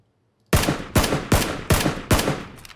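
Five loud, closely spaced gunshots ring out in PlayerUnknown's Battlegrounds, each sharp crack decaying quickly before the next in a steady rhythm after a short silence, with no talk over them.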